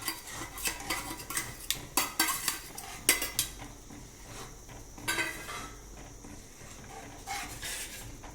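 Metal utensil stirring and scraping onion in a cooking pan, with irregular clinks and scrapes coming close together and loud, and no talk over them.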